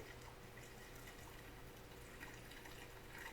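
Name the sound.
pouring apple cider vinegar into jar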